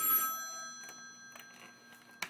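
A telephone rings faintly in a shelter office. A short bright ring fades into lingering quiet tones, with a few soft room noises after it.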